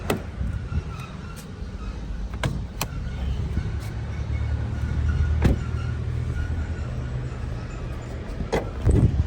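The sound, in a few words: bonnet of a Lexus UX being opened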